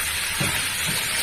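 Gachh pantha, a jackfruit curry, being stir-fried in a pan, giving a steady broadband hiss and sizzle with a couple of soft low thumps, heard close and alone.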